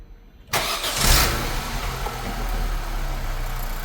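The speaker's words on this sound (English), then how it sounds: "make an attempt to start the engine" A car engine cranks and fires after a battery pre-charge with a portable booster charger. An abrupt loud start swells briefly, then settles into a steady, close idle rumble.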